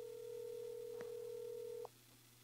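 On a portable telephone handset, a steady low line tone holds for nearly two seconds, broken by a faint click, then cuts off with a short higher beep, leaving quiet line hiss.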